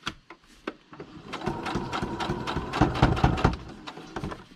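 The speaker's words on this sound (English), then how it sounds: "That just gets loud because it's sewing over that super thickness" A sewing machine stitching slowly through thick paper and a hole reinforcer, uneven clunking needle strikes with a few isolated clicks first, then a louder labored run of heavy thumps, close up.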